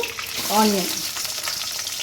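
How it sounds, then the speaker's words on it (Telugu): Tempering seeds sizzle in hot oil in a pan, a continuous close frying hiss with a short voice heard briefly over it. "తాలింపు గింజలు వేగుతున్నప్పుడు"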